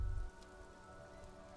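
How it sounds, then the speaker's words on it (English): In the video game Disco Elysium, rain falls on the city of Revachol, dripping from the eaves and flooding the gutters: a soft, steady patter that opens with a brief low thud, then settles into a quiet, even wash. "Rain drips from the eaves and floods the gutters, washing the filth away."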